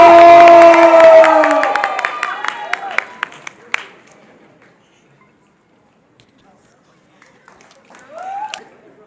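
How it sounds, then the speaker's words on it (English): A fashion show crowd cheers and applauds loudly for a performer right after an announcer's voice, the roar fading over a few seconds into scattered claps and near silence, then a brief swell of voices. "Make some noise for Linda Bertamo!"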